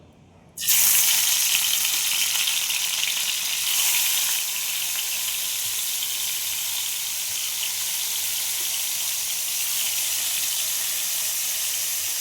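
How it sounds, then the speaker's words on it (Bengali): Fish coated in salt and turmeric hits hot oil with a sudden loud sizzle that settles into a steady, bright crackling fry, close up and with no talking. "এবার মাছগুলো আমি একে একে ছেড়ে দেবো।"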